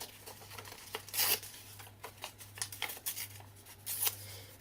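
Scissors cutting through pages of text from an old book, a quiet run of short snips and paper rustles close by, with a brief louder crunch of paper in between and no talking.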